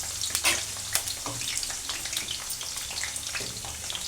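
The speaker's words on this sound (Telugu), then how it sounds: "ఇట్లానే ఒక 2-3 నిమిషాలు అనేది మంచిగా నూనెలో మనకి ఫ్రై అవ్వనివ్వుతూ ఉండాలి." Indian gooseberries for amla pickle fry in oil with a crackling, popping sizzle, sharp spits and bursts over a steady hiss, close by and without talk.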